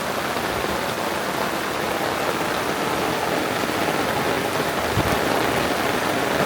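Rain falls steadily on a vegetable garden, a dense even hiss of drops with no letup, fairly loud and close, with no voices.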